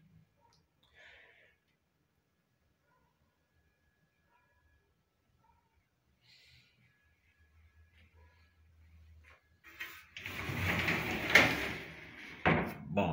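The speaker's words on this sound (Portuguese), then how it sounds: "Tudo de correr as portas." Sliding wardrobe doors in a decorated apartment roll and knock shut, a cluster of loud clattering bangs and rumbles near the end after a long, mostly quiet stretch.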